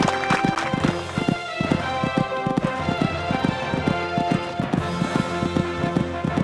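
A horse gallops across the Badminton horse trials cross-country course, its rhythmic hoofbeats pounding steadily and fairly close throughout.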